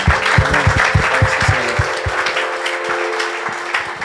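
A church congregation applauds during a revival service in Abidjan, with scattered claps and a steady crowd din over low rhythmic thumps, fairly loud and continuous throughout.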